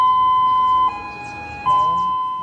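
An emergency warning siren near a dam sounds a loud, steady high-pitched tone, breaking off for under a second midway before resuming, with no voices.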